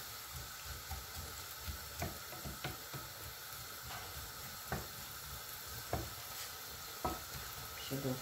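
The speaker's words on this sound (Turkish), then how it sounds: "Soğanlarımız kavrulurken" Chopped onions sizzle and fry gently in a pot over low heat for coriander soup, a steady close hiss broken by several sharp stirring scrapes and clinks of a utensil against the pot.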